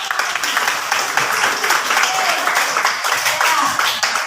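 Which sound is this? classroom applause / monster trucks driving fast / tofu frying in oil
classroom applause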